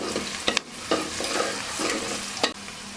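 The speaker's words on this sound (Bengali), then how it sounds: "পেঁয়াজটা আরেকটু ভাজা হলে তারপরে" Onions fry with spices in a pan for chicken biryani, a steady close sizzle with sharp clacks of a spoon stirring against the pan, loud and unbroken, with no talking.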